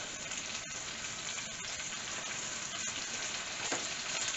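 Cooked peppers and onions with curried chickpeas sizzle steadily in a hot pan, a continuous close frying hiss with faint stirring clicks and no talk.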